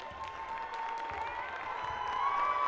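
Crowd at a high school basketball championship game in a gym cheering and applauding steadily, a loud, dense roar that swells toward the end as the final seconds run out.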